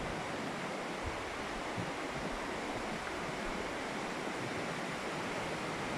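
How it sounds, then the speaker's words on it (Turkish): Water flowing through Horma Canyon, a broad, steady rushing roar that stays constant and fairly loud for the whole stretch, with no voices over it. "Su sesi var."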